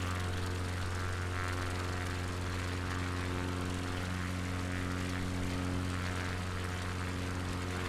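A propeller plane's engine in Microsoft Flight Simulator drones continuously, a steady loud hum with layered tonal harmonics and no change in pitch, heard alone without talk.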